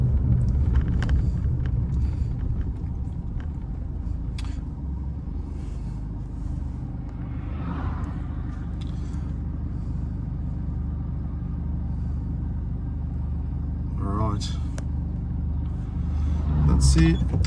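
A car with an EVC speed controller pulls onto the road, its engine rumble and tyre noise steady throughout. A few brief clunks and knocks come through inside the cabin.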